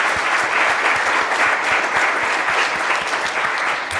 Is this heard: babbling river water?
no